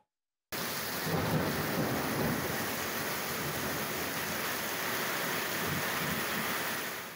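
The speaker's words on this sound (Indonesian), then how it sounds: "Hujan lebat disertai angin kencang mengakibatkan banjir di Desa Cikande, Kecamatan Saguling, Bandung Barat, Sabtu sore" Heavy rain pours steadily with strong wind during a storm that brought floods to a village in Saguling, West Bandung, Indonesia; a dense, continuous roar begins abruptly and holds loud throughout.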